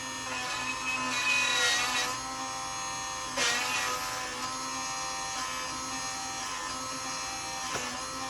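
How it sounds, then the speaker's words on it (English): A drill grinding into the metal of a 1950s Fleischmann model train motor with a steady whine and squeal, nearby and continuous, with a couple of brief harsher bursts. "I'm going to drill now the metal up to 24"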